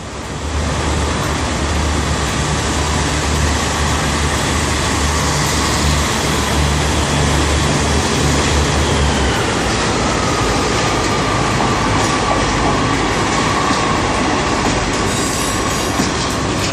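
A Class 143 diesel multiple unit pulls out of Exeter St David's station, its loud steady rumble and wheel noise filling the whole stretch, with a low engine drone fading midway and faint squeals later.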